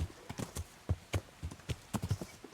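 Horse hooves thud across a plowed field in an irregular clip-clop, a quick run of soft, close beats with no other sound.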